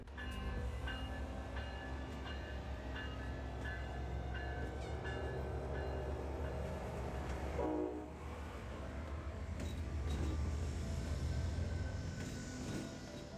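An ACS-64 locomotive engine rumbles low and steady nearby with rail clatter and a brief horn-like tone, no voices, as it backs slowly along a station platform.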